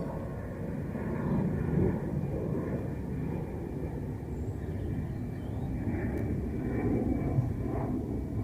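An airliner using reverse thrust while landing at Dublin Airport, heard as a broad, steady low roar from a distance that swells slightly and holds throughout, with no talking.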